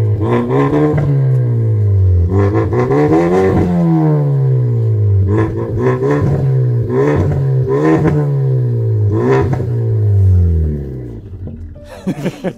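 A Ford Mondeo EcoBoost 2.0 engine revs repeatedly, rising and falling in pitch with a rumbling exhaust note, loud and close, settling toward the end.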